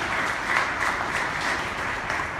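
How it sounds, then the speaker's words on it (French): Steady applause from a French-speaking conference audience at a festival event with Michel Soukar and Rodney St-Eloi, a dense uniform wash of clapping held at a constant moderate level. "Je vais vous applaudir tous les deux"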